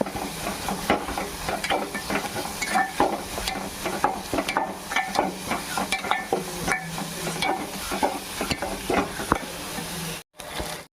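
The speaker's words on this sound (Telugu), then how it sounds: "అది కూడా పచ్చి వాసన పోయేదాకా మంచిగా ఫ్రై చేసుకున్నాం." Ginger garlic paste frying in oil for a dum biryani, stirred in a pan with a constant close sizzle and repeated scraping strokes of a spoon, with no talking until a short pause at the end.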